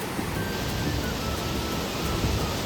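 Small waterfalls at Sahastradhara, Dehradun, in the rain, heard as a steady, broad rush of falling water and rainfall that stays constant throughout, with no voices.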